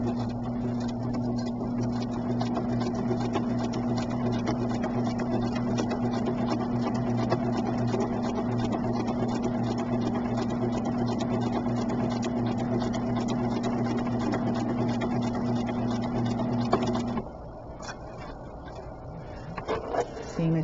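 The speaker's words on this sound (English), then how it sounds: "we are now going to sew this seam" A sewing machine stitches a seam in foundation paper piecing for a skewed pinwheel quilt block, giving a steady, continuous motor whir for about seventeen seconds before stopping, followed by quieter handling sounds.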